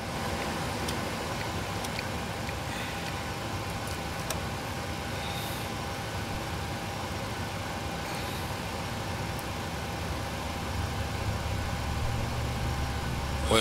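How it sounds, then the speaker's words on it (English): Steady engine hum from the number two engine of a PMDG 737-800 starting up in the Prepar3D flight simulator, a low continuous drone with faint ticking clicks that grows slightly louder near the end. "Clear to start engines. Start engine 2. Starting 2."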